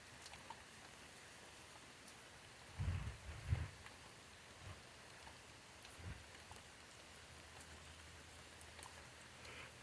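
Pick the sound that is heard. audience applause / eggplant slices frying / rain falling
rain falling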